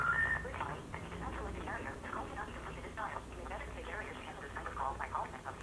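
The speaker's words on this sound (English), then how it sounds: "That speakerphone sucks." A phone call plays through a poor-quality speakerphone, with a thin, muffled voice talking steadily across the whole stretch.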